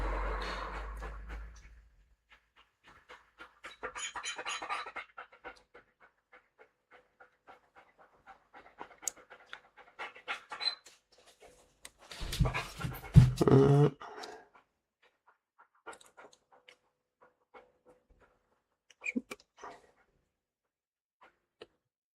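Dog panting and whimpering indoors, soft, quick breaths near and faint, with a louder burst of whining and snuffling partway through, mostly quiet between.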